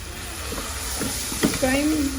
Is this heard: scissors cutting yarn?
no